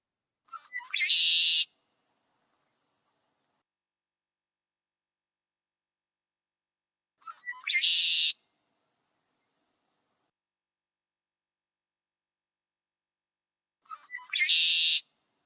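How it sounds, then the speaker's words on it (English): Red-winged blackbird song rings out three times, each a short, bright burst separated by long stretches of silence, fairly clear and alone. "red-winged blackbird"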